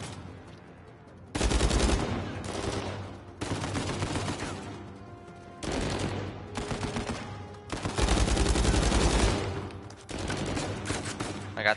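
Video game gunfire in repeated bursts of rapid automatic shots, loud and close, separated by short pauses.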